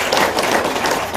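An audience at an Indonesian seminar event claps together in a dense, steady patter of many hands, close and fairly loud, lasting about a second.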